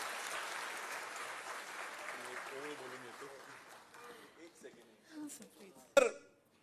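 Audience applause following a speech by Yuvraj Sambhaji Raje Chhatrapati, a crowd clapping that fades out under a speaking voice, ending with a sharp knock.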